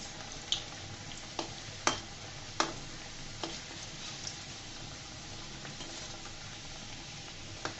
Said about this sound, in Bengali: আমার তেলটা গরম হয়ে গেছে। এক এক করে আমি নাস্তাগুলো দিয়ে দিব।